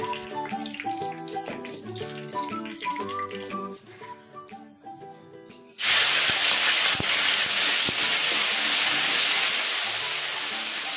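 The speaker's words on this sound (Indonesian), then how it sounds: "bumbu yang udah kita ulek tadi ini aku bakalan tumis sampai berbau harum" Ground spice paste hitting hot oil to be sautéed, bursting into a loud, steady hiss and sizzle that goes on unbroken after a stretch of background music.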